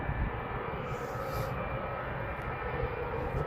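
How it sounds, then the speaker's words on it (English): A TUI airliner departs Manchester Airport bound for Paphos, its engines making a steady, fairly distant roar heard alone, with no talk. "So this is the TUI off to Paphos."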